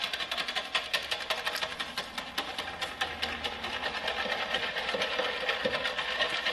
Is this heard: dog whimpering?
no